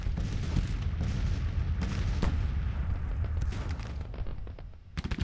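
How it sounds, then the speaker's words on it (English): An artillery battery fires in a Civil War video game, with repeated booming cannon shots and scattered crackling gunfire from a middle distance, forming a dense, rumbling battle din that runs throughout. "And it is an artillery battery."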